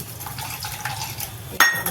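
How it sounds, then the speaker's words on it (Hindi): Water splashes and trickles into a bowl close by, with light clinks of metal or dishware and a brief louder splash near the end. "थोड़ा इसमें पानी हम और डालेंगे।"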